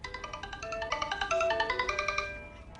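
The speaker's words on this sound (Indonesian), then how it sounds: "ponsel kembali berdering" A mobile phone rings with a bright, repeating electronic melody of quick tonal notes, close and moderately loud, with no talking.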